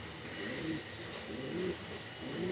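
Soft cooing of pigeons amid steady outdoor background noise, with a couple of low coos rising and falling.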